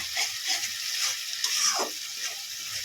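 Spice masala with tomato ketchup fries in a pan for a jackfruit seed curry, a steady bright sizzle with a few faint scrapes and a brief rising squeak of a spatula, no voices.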